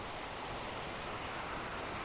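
The Stickle Ghyll waterfalls give a faint, even rush of falling water that holds steady without a break, with no voices.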